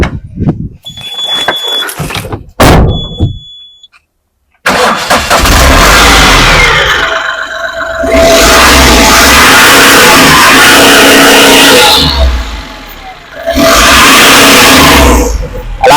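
A 2023 Ashok Leyland Dost LX light truck's engine cranks and catches after a couple of short bursts and a brief silence, then runs loud and close, revving up and easing back twice in steady surges.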